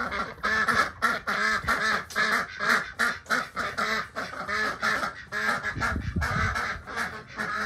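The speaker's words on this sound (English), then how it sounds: "There's a duck, man." Ducks quack repeatedly in a close, busy chorus in a poultry enclosure, with rhythmic overlapping calls throughout and a brief low rumble near the end.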